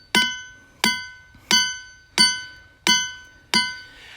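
Ringing rocks at Ringing Rocks Park in Upper Black Eddy, Pennsylvania are struck with a hammer six times at a steady pace, each blow giving a loud, bell-like metallic clang that rings and fades.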